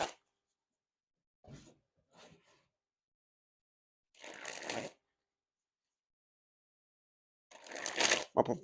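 Slightly slippery, fully inked Bicycle Jolly Roger playing cards are shuffled in short close bursts of riffling: two quick soft flicks, then two longer, louder riffles separated by silence.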